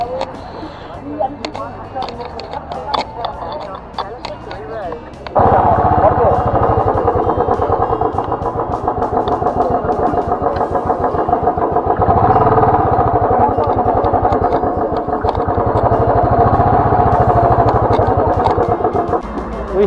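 A motorbike at Skyland in Tinsukia, Assam: engine note heard first under echoing ambience, then a louder steady engine rumble as it is ridden and parked, with people talking over it.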